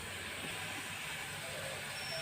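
A mixer grinder churns bitter gourd and lentils with salt, green chili and a little sugar, giving a continuous, even whirring hiss that stays faint and steady without a break.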